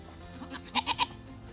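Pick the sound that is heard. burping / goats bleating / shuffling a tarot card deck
goats bleating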